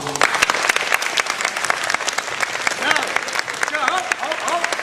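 Players at a basketball camp clap together in a dense, steady burst of applause that fills the whole stretch, with a few voices calling out over it.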